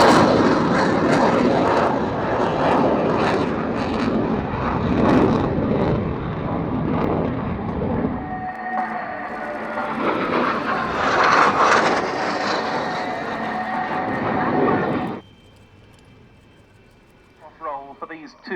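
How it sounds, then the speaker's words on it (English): A fighter jet roars through a high angle of attack display at a naval air day, loud and sustained, with the thrust swelling midway before cutting off. An announcer commentates over the noise over a PA system. "Captain Porteous will now demonstrate the high angle of attack."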